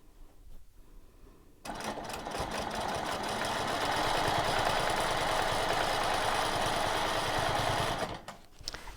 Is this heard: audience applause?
no